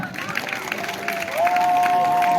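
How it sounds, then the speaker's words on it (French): A crowd applauds at a public gathering in Zikiso, Côte d'Ivoire: sustained clapping and cheering with crowd murmur. A steady high whistle-like tone rises in the second half. "Applaudissez-les."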